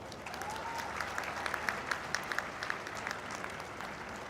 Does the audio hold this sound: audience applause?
yes